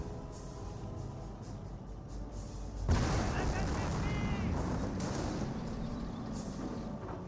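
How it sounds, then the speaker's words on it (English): A Calliope rocket barrage in Company of Heroes 1 erupts as a sudden loud rumbling blast of rocket fire that swells and sustains, over a constant backdrop of battle noise. "Another Calliope Rocket Barrage."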